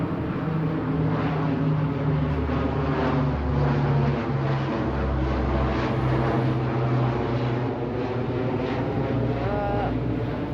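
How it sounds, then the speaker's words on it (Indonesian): An airplane passes overhead, a loud, steady engine drone that fills the whole stretch without fading, heard outdoors during the dry-season rains. "Pesawat lewat."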